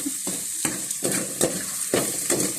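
Onions sautéing in a pan for ginisang monggo give a steady close sizzle, broken by several scraping stir strokes at uneven intervals, with no talking.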